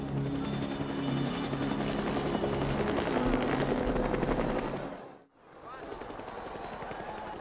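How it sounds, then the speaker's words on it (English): A helicopter's rotor thumps and engine whine fill the air loudly over a retreat in the Andes, briefly cutting out before resuming at a lower, rougher level. "an helicopter started flying"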